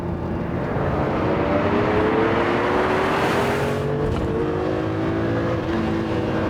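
A Ferrari Testarossa's engine roars loud and continuous from inside the car, its pitch climbing steadily as it revs hard under acceleration.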